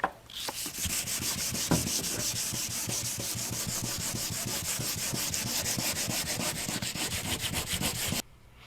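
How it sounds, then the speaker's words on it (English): Close, rapid back-and-forth strokes of 800 grit sandpaper rubbing by hand across a damaged car fender, a steady scratchy rhythm that runs for about eight seconds and then stops abruptly. "we've got some 800 grit sandpaper and we're going to start sanding down the worst of the damage"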